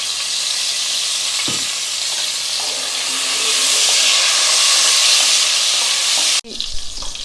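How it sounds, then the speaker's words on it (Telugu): Eggplant pieces frying in hot oil for a country chicken curry give a steady, loud sizzle that swells midway, then breaks off near the end into clattering pan handling. "సో వంకాయలన్నీ ఒకసారి వేస్తున్నాను, ఒక 2 minutes ఫ్రై చేసి తీసేద్దామని."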